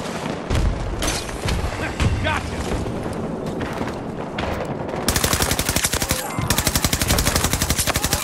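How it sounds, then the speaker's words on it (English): Rapid gunfire and blasts from Battlefield 2042 Breakthrough combat, with a dense burst of automatic fire in the latter half after a grenade is thrown; loud and continuous, with voices underneath. "Throwing grenade!"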